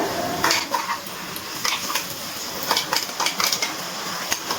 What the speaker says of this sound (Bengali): এবার একটু নাড়াচাড়া করে নিচ্ছি একটু তেলে নাড়াচাড়া করে আদা রসুন